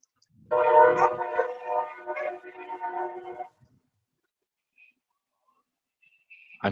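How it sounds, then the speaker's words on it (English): A train sounds its horn in a long blaring blast of about three seconds, heard from some distance through a room, followed by near silence and faint small noises. "If my son heard that train, he'd be rushing out of bed right now."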